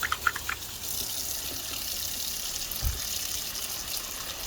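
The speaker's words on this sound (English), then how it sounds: "let's pour this water out" Water pours out in a steady, close splashing gush during oven grease cleaning, a continuous hiss of liquid with a brief low thud partway through.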